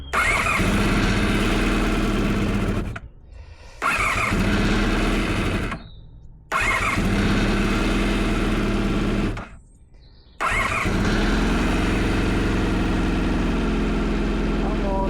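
A Honda VFR400 NC30 barn-find motorcycle on full choke cranks and catches repeatedly, cutting out three times with brief silences before settling into a steady, close idle.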